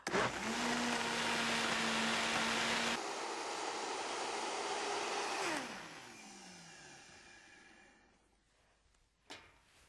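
A blender purees gazpacho ingredients, a loud steady whirring roar that shifts pitch partway through, then winds down and stops, leaving near silence and a brief final clunk.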